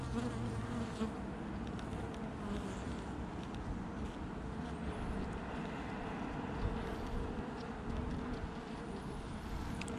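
Honeybees buzz densely at their hive after transhumance, a constant close-up drone of many wings, fairly faint and steady throughout without voices.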